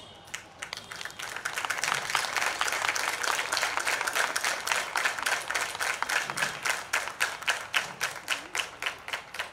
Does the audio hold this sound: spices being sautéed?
no